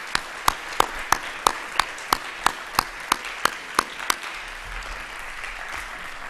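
Clapping at an awards presentation for student reading and writing winners: sharp, evenly spaced claps, about three per second, that stop after roughly four seconds and give way to quiet room noise.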